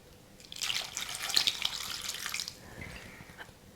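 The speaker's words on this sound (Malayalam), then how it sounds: "കുറച്ച് വെള്ളം ഒഴിച്ചിട്ട്" Water pours steadily into a clay cooking pot holding taro, ginger, garlic and green chillies for a sardine curry, a close splashing stream lasting about two seconds before it tapers off.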